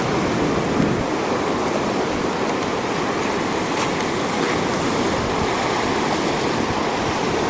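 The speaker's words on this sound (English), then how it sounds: "you can see that the waves are now way up past the groin" Ocean waves wash up past a beach groin, a loud, continuous roar of surf close by with no talking.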